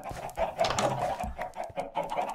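Minecraft chickens in an enclosed farm area cluck in short, scattered bursts at a moderate distance, fairly faint, with no speech over them.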